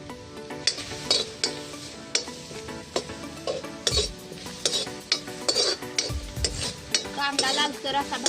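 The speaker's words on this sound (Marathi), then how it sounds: "कांदा लालसर असा भाजून घ्यायचा आहे।" Finely chopped onion frying and browning for village-style palak paneer cooked over a wood-fired stove, stirred with a metal utensil that clinks and scrapes against the pan in frequent strokes over a continuous sizzle.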